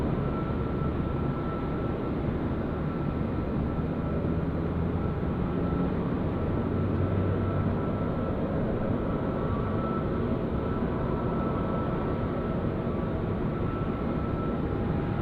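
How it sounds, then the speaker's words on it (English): Airbus A321 freighter coming in to land at Sydney Airport, a steady broad jet roar that stays loud and even throughout, with no speech. "the mini roast there in the background as well, the 321 freighter. Come on, bring it all the way down"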